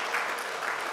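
Church congregation applauding at a Sunday service to congratulate a couple on their upcoming wedding, a steady, even wash of many hands clapping throughout the brief moment.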